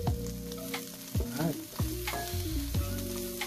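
Onion being sautéed with pork in a pan, a soft continuous sizzle broken by repeated scraping stirs of a spatula, close and fairly quiet, with no talking.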